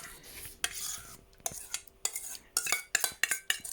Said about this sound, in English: And I'm just going to mix the marinade in.